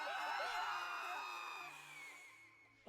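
A stock scream sound effect fired off a soundboard: a loud, drawn-out shriek with wavering, falling pitch that fades over about three seconds, with no talk over it.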